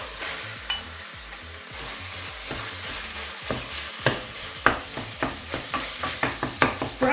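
Beef mince fries with onions in hot oil in a frying pan, a continuous sizzle punctuated by repeated spatula knocks against the pan that grow quicker and more regular toward the end.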